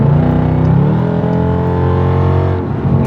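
A Dodge SRT Hellcat Durango engine revs hard while driving, a loud, deep, continuous roar with shifting pitch filling the whole stretch, close to the listener and alone.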